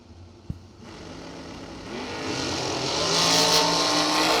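A hot rod race car engine in a drag racing setting grows louder as it accelerates, building from a faint click into a broad, roaring rush.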